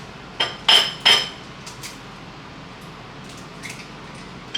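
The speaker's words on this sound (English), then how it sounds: "and then I get my egg, and then I crack it" An egg cracked against the rim of a bowl gives two or three sharp close taps, followed by faint scraping and clinking as it is mixed, with no talk.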